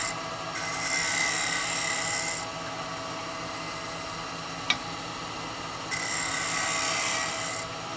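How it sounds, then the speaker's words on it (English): Steady raspy abrasion against a spinning purpleheart wood bowl on a lathe, continuous and close, swelling and easing in intensity with one sharp tick midway; no voices. "I think that's all right for sanding now."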